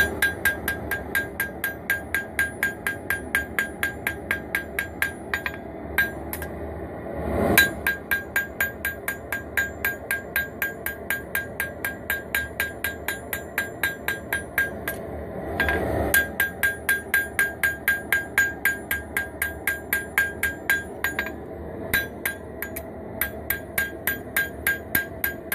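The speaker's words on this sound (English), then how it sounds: "go over the whole edge very quickly with small hammer blows" Small hammer blows strike the edge of a forged dagger blade in quick, steady, ringing taps, continuing for a long run with only a couple of short pauses.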